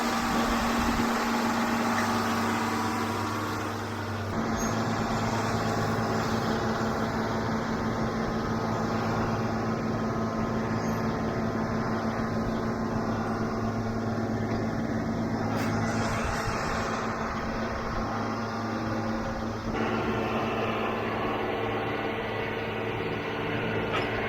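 A tractor drives across a field to collect scattered alfalfa bales, a continuous mid-distance engine drone with a steady hum that shifts in load a few times, alone and without talk.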